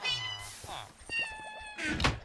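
A cat in the video game 47KINGDOM Realm gives a couple of drawn-out meows, with a dull thunk partway through and a sharper burst of sound at the end.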